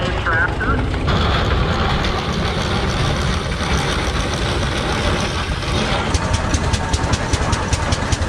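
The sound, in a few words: homemade tractor engine in parade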